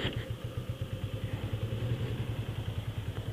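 Small 250cc motorcycle engine idling or ticking over with a rapid, even low thumping pulse, steady and close with no talk.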